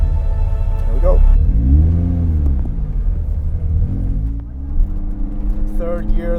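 Lotus Exige S220 engine heard from inside the car on a cold track day, a loud close drone rising and falling in third gear, with someone talking over it.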